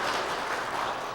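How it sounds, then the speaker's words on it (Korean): A church congregation at a Sunday worship service at Kyungdong Church claps in welcome, a dense, steady wash of applause filling the short moment from start to end. "우리 박수로 우리 두 분을 환영하겠습니다."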